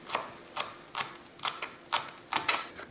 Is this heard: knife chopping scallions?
yes